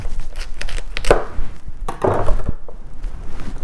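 A knife cuts the bottom off a purple vegetable on a board, giving a few close, solid chopping thunks between softer handling noises, without talk.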